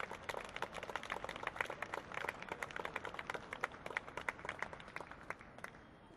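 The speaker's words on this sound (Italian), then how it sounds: "l'applauso degli amici è stato spontaneo" Friends gathered at a strike picket give spontaneous applause to a dismissed worker leaving the group: many hands clapping in a steady, dense patter from a small crowd, heard at moderate distance and faint, with no voices.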